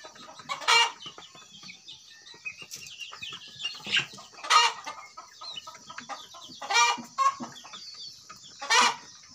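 Black-meat chickens cluck repeatedly while feeding, with several louder bursts at irregular intervals over a steady background of softer clucks and pecking, fairly near, with no talk.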